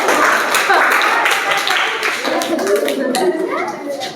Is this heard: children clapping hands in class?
yes